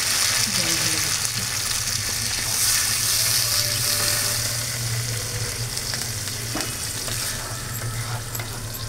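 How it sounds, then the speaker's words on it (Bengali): Water is poured into a pan of cooked-down spice paste for an aloo potol curry, and a loud, close hiss and bubbling follow, sustained throughout and easing slightly toward the end, with faint background voice. "এবার আমি এটার মধ্যে জল ঢেলে দিচ্ছি"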